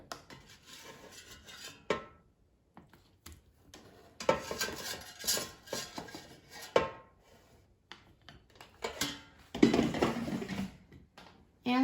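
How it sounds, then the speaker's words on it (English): A cooked cube steak is moved out of an air fryer basket onto a serving plate, heard as bursts of scraping and metallic rattling with clinks, separated by quiet pauses. "now let's transfer the steak to the serving plate"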